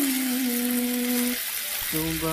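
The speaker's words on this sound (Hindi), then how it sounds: "चिकन को फ्राई कर लेंगे जब तक चिकन का कलर ना चेंज हो जाए" Chicken pieces fry in a pan with a steady, close, hissing sizzle that runs without a break. A faint tonal hum sits underneath.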